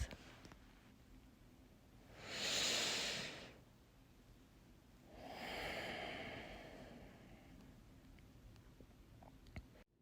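Two slow, deep breaths from a person lying on their back in a yoga relaxation pose, each a soft airy rush of a few seconds, close and gentle with quiet pauses between.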